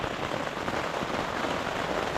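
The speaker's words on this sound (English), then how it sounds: "I was expecting rain." Steady rain falling outdoors during a long-distance Tour Divide bike ride in Montana, heard as a dense, even hiss of drops that continues unbroken throughout.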